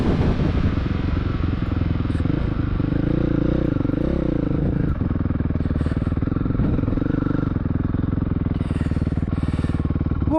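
A Ducati Desmo450 four-stroke dirt bike engine roars continuously through a lap of a track, loud and close as if on board, pitch rising and falling with throttle changes, with wind and clatter throughout.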